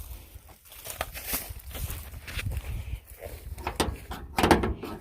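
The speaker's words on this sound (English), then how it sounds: "Door won't open." Someone tugs at the door of an old junkyard truck, maybe a 1968 or 1969, that won't open, giving a few dull knocks and rattles against a rough outdoor background with footsteps.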